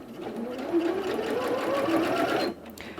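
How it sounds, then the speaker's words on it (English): A Janome 230DC sewing machine, started with its start-stop button rather than a foot pedal, runs in a continuous close whirring stitch for about two and a half seconds, then stops. "use the start-stop button. Press it once to start sewing"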